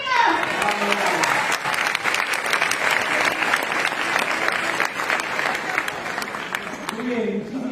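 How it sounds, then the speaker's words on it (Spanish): Audience at the CADE Escolar 2025 school event breaking into sustained applause, a loud, dense crowd clapping that holds steady for several seconds, with voices briefly over it at the start and end. "¡Aplausos, chicos!"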